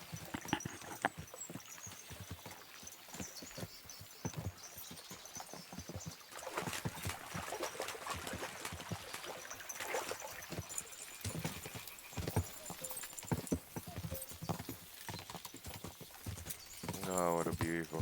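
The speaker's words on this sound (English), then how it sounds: "we'll give the horses a gallop again." Horses gallop across open country in Kingdom Come: Deliverance II, a steady rapid clip-clop of hooves running throughout with a splash of water and a voice talking over it.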